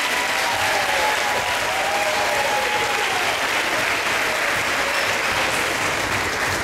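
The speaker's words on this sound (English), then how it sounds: "I want to have everyone give the juniors a round of applause" Audience applause for the junior finishers at a kids' triathlon awards ceremony in Rochester, steady and dense for the whole stretch, with a few faint voices rising above the clapping.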